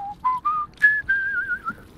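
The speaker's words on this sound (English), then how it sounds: "Well, I'm just gonna whistle to myself for a bit now" Character in the video game High on Life whistles idly to himself, a short run of clear notes climbing in pitch, then a longer wavering held tone, alone with no talk.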